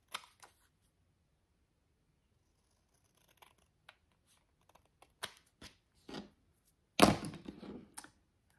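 Scissors snip through paper labels in short, quiet, scattered cuts with pauses between them, a louder burst of crisp cutting near the end and no voices.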